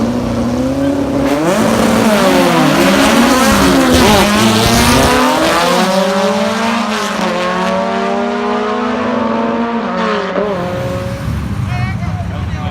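A Datsun 280ZX drag car launches down the strip at Xtreme Raceway Park, its engine loud and rising through the gears with tire noise, while people talk over it.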